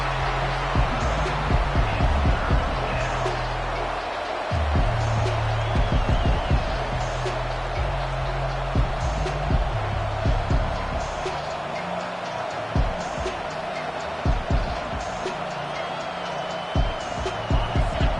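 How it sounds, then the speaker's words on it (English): Home crowd noise in a football video game, a constant roar from a stadium full of fans that swells at times as the defense faces third down, with sharp thuds and someone speaking over it. "Here comes this home crowd as the defense tries to get off the field on 3rd down."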